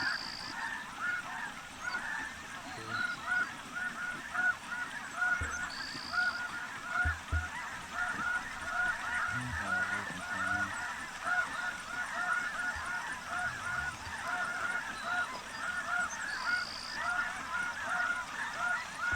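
A flock of snow geese honks and calls continuously during a spring hunt, a dense chorus of overlapping cries at moderate distance with a few louder nearby honks.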